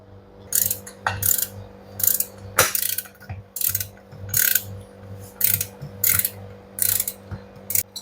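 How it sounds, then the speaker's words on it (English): A pulley is worked off a semi-automatic washing machine motor with a ratcheting tool, producing about a dozen sharp, close clicking bursts in an uneven rhythm. "Now I have to remove this pulley and we have to replace here"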